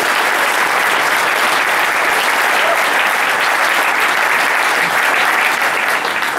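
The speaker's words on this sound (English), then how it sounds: "a huge, thunderous round of applause for Ben Firshman" Thunderous applause from a large conference audience, dense and steady throughout, loud and sustained without a break.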